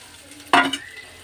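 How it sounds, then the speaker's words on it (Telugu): Shredded cabbage dropped into a hot tempering of asafoetida, curry leaves and coriander gives one sudden, loud hiss of frying that fades within about a quarter second, followed by a quiet tail. "ఇప్పుడు ఈ క్యాబేజీని ఈ పోపులో వేసుకొని"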